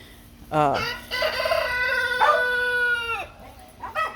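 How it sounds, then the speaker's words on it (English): A rooster crows loudly and nearby, a long drawn-out cry, with a brief clucking call after it. "just sit and listen to the birds and relax"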